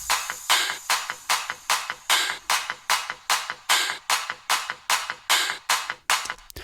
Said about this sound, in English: we're gonna start off with the drums, and they sound like this